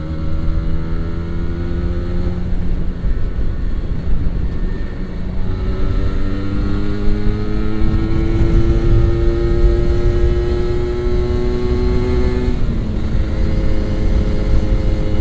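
A Kawasaki Ninja RR motorcycle engine roars loud and close while riding, revving up and down through the gears with rising and falling pitch over constant wind rush.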